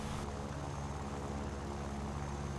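A propeller aircraft engine in the War Thunder video game drones steadily and loudly after the throttle is cut, a constant buzzing hum with no break.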